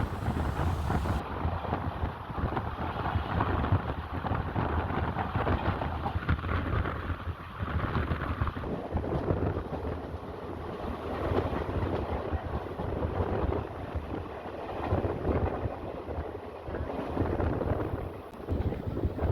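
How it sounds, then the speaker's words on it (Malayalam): An express passenger train running from Kollam toward Thiruvananthapuram picks up speed, heard from on board as a continuous rumbling roar with gusty wind buffeting throughout. "ട്രെയിനിപ്പോൾ അത്യാവശ്യം സ്പീഡ് എടുത്തു തുടങ്ങി."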